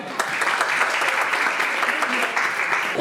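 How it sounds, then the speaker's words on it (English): An audience at a Christmas church programme with children claps in dense, continuous applause for about three seconds. "Can we have a round of applause for him?"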